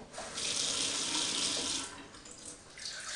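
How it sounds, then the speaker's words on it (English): Filtered water pouring into a blender jar for a green smoothie with avocado and banana, a soft steady splashing stream lasting a couple of seconds before easing off, fairly quiet. "I'm going to add even a little bit more filtered water"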